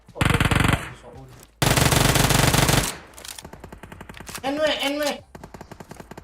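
Sustained automatic gunfire from PUBG Mobile, two loud dense bursts of rapid shots separated by a short gap, followed by scattered softer shots while players talk over it in Indonesian.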